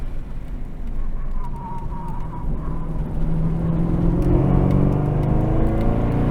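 A Chevrolet Camaro ZL1 1LE, a barn-find car, is driven hard around a race track's tight back section. Its engine roars steadily and builds toward the end, with a continuous rumbling drone close by and no talk.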